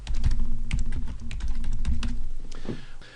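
Quick, uneven keystrokes clatter on a computer keyboard, close and distinct, with a short pause near the end, no speech.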